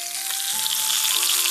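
Battered kkaedashi crabs deep-fry in hot oil with a steady, loud sizzle and crackle that holds through the whole moment, with no voices over it.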